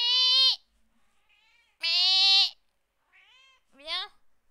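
A house cat meows three times, the first two long and loud, the last one shorter and sliding, with quiet pauses between them and no other sound.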